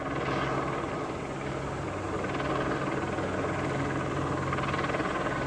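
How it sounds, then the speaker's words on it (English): A news helicopter passes overhead with a continuous, loud rotor drone and broadband rumble that holds steady throughout, with no talk over it. "But it's most likely to be a news chopper."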